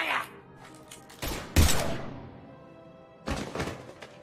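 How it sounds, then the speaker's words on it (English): Gunfire erupts in a Mass Effect-style sci-fi shooter, a few heavy booming shots and a crashing burst with echoing decay, loud and separated by brief pauses. "Now open fire!"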